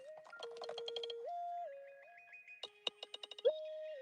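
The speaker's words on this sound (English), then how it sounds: "Oh, that's my phone." A quiet electronic phone ringtone plays a melodic tone pattern with stepped pitches and a run of short plucked notes, heard alone with no talking.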